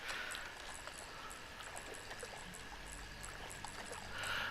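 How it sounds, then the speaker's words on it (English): Water washing and lapping in the fishing game Call of the Wild: The Angler, a steady close trickle and splash with faint ticking over it and no voices. "Just hearing like the waves crash and everything while you're just chilling, waiting for the strikes."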